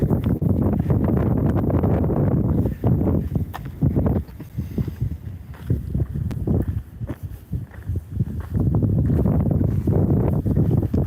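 Gusting wind on a Hawaii hiking trail buffets the microphone in loud, broad rumbling surges that ease briefly around the middle before building again, with soft footsteps underneath.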